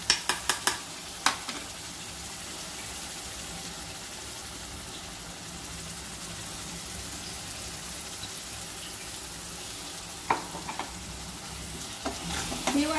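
Ground paste of green coriander, garlic, ginger and coconut, added with tomato for a prawn curry, frying steadily in a pan with a soft continuous sizzle and a few sharp clinks of a stirring spoon near the start and end.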